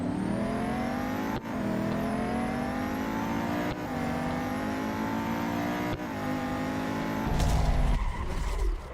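Race car engines roar through a drag race in the Real Racing 3 video game, a sustained high revving drone with gear shifts breaking it up and a louder surge near the end, no voices over it.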